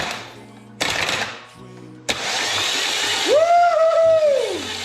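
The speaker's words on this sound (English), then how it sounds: "All right, the starter works with the flywheel." A starter motor cranks the flywheel of a turbocharged Toyota KL engine being adapted to an all-wheel-drive Toyota transmission, with short loud grinding bursts followed by a sustained mechanical whir and a rising, falling whine, close by.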